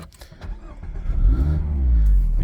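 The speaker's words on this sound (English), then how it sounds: "did you see how that sort of revs up as you start it" A Mazda MX-5 1.5 Skyactiv-G R-Sport cranks and fires up close by, the engine surging into a quick programmed rev after a brief starter whirr, then settling into a steady, loud idle.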